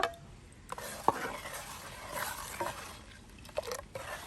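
Ground sesame paste being stirred with jaggery for a sesame seed juice, soft scraping and sloshing spoon strokes with light clinks against the bowl, close and quiet.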